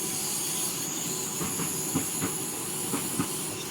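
Another train passing on the Mittenwaldbahn line near Innsbruck in Train Simulator Classic, a steady rumbling roar with rhythmic wheel clacks over rail joints, close and sustained with no talk.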